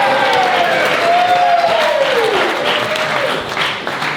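Wedding guests applauding and cheering through a speech, a loud continuous wash of clapping with rising whoops and a long drawn cheer near the middle, the whole room joining in.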